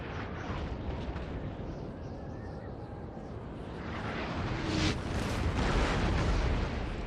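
Cannon fire and explosions rumble through a Napoleon: Total War battle, a dense continuous roar of booms that swells louder toward the end, with faint talk underneath.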